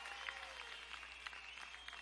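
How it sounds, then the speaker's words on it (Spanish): Crowd applauding at a street political rally in Tinaquillo, Cojedes, Venezuela, a dense continuous patter of many hands clapping, steady and fairly loud for the whole stretch. "Vamos a meterle un fuerte aplauso al valiente presidente Nicolás Maduro desde"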